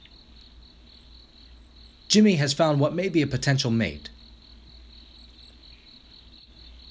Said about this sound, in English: The first creature we will meet today is this house cricket.